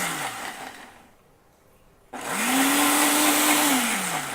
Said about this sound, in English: You blend it for 60 seconds